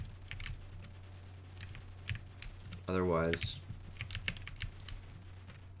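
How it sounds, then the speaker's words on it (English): Clicky computer keyboard typing, with short bursts of sharp keystrokes in uneven rhythm over a steady low hum and soft background music, plus a brief spoken word partway through. "I'm guessing my clicky keyboard is really gonna distract"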